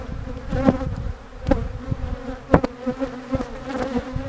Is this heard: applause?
no